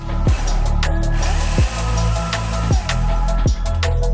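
A Ryobi battery chainsaw with redesigned batteries and electronics cuts wood for a rustic bed, a loud close motor whine that dips in pitch several times as the chain bites. No one speaks.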